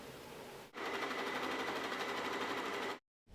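A sewing machine zigzag stitches fleece and elastic in one loud, close, steady run of about two seconds that starts and stops sharply, followed by silence.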